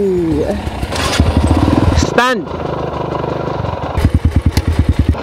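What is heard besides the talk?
motorcycle engine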